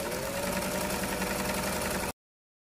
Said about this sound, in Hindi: ऊपर से मैं सीधा सिलाई करके लेने वाली हूँ